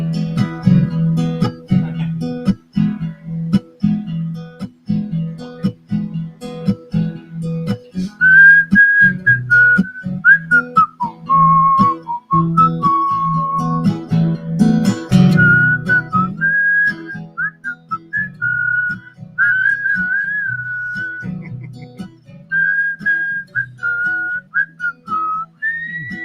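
A person whistles an original tune live in a radio studio, a clear wavering melody carried alone for most of the clip over a low steady hum with scattered clicks.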